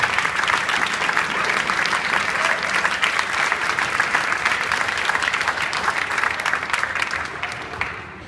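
An audience at a championship celebration gives dense, sustained applause to the track project donors, loud and even throughout and fading slightly at the end, with no talk over it.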